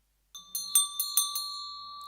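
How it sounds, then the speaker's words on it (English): A small handheld bell used in a Buddhist teaching rings in a quick series of about five bright, sustained strikes, each ringing on and overlapping into a long shimmering decay, close and clear with no talk. "This is a bell."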